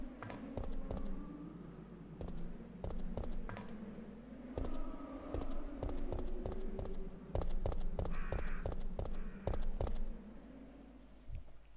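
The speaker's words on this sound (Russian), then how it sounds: "Птички. Тоже такие бесячие, я их ненавижу, этих птичек." Crows caw repeatedly in Resident Evil 3 Nemesis, harsh calls rising over a low background drone, mixed with regular sharp clicking taps throughout.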